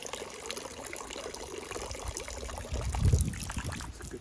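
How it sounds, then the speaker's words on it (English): Water flowing through a Millbank filter bag in a forest, a steady trickling and splashing that swells briefly into a heavier pour before settling, close and moderately loud. "You can see how quick it's filtering."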